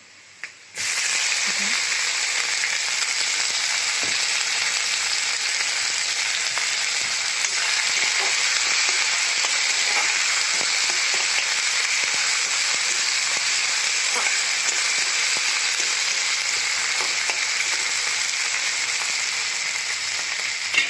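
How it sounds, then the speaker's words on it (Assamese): Ground masala paste sizzles steadily in a pan with browned onions over low flame, a dense continuous hiss that holds from start to finish with occasional faint stirring clicks beneath. "এতিয়া দি দিম মছলাখিনি, যিখিনি মই পিচি লৈছিলোঁ।"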